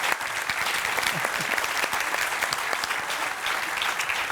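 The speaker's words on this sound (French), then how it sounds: "Ça s'applaudit." An audience applauds steadily throughout at a food truck quiz evening, a dense wash of clapping hands with no pauses.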